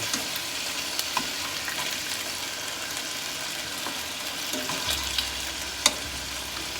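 Bratwurst and peppers frying slowly in a pan over medium-low heat, a steady soft sizzle with faint crackles and a few light clinks, close and continuous with no talking.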